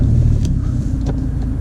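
A BMW 1 Series E88 120i M Sport idles with a steady, loud low rumble and faint ticks above it, the engine running evenly throughout without rising revs.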